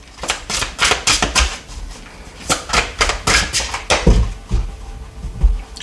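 Tarot cards being cut and laid out on a table, a close, loud run of crisp slaps and taps in an irregular rhythm that continues steadily without talk.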